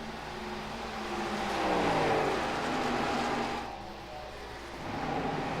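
Race cars roar past the start-finish line at Chicagoland Speedway, a steady loud engine drone that swells and fades as the pack passes, heard without talk.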